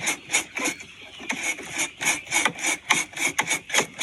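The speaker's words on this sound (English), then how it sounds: "I got this little wire brush." A small wire brush scrubs dry preservative into a wild turkey mount with steady back-and-forth strokes, a rhythmic, close and fairly loud raspy scratching that repeats several times a second.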